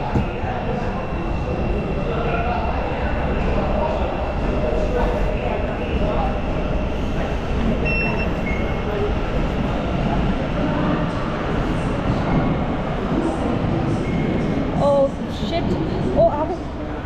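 A train runs through London Farringdon station, a steady rumbling roar with clattering wheels and a brief high squeal, heard close and continuous while someone talks over it.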